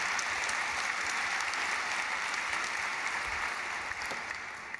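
A conference session audience claps in a dense, sustained burst that holds steady for several seconds and thins slightly toward the end.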